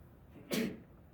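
One short, moderately loud sneeze breaks into the quiet room tone during a physics lecture, with silence before and after.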